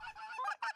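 Geese honk out on a goose hunt, a few quick nasal calls from single birds arriving, fairly clear and close, with no voices over them.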